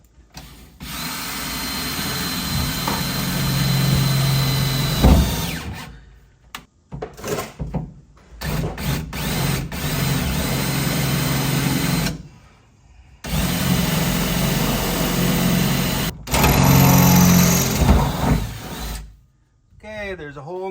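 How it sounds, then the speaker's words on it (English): A power drill boring a hole through the bed floor of a Ram 2500 pickup truck for a B&W hitch, whining in several long bursts separated by pauses and clattering handling noises, with someone talking at times. "Said let's drill a hole in the floor of a perfectly good truck."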